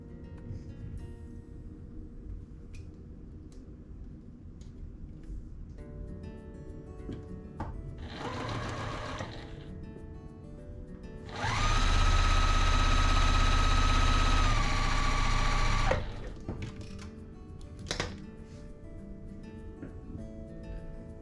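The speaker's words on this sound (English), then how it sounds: "we'll sew these two together" A sewing machine stitches quilt pieces together in two runs, a brief whirring burst followed by a longer, louder steady hum of rapid stitching up close, with quiet handling sounds before and after.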